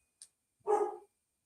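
A dog barks once, short and moderately close, preceded by a faint click in an otherwise quiet room.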